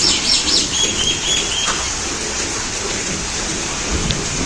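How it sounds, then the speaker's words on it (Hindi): Heavy rain pours down steadily as a dense, even hiss, with a few faint bird calls on top near the start. "काफ़ी तेज बारिश थी यार"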